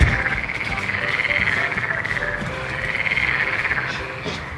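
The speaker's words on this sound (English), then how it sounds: "It's a toad." A toad croaks outdoors in a steady, rapid trilling chorus that pulses continuously and loudly, with faint insect-like chirping underneath.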